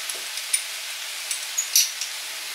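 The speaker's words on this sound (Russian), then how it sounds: "И обжариваем все вместе до золотистого цвета грибов" Mushrooms fry in a pan, a soft, fairly quiet hiss with a few small pops and a faint clink.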